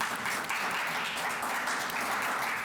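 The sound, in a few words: audience applause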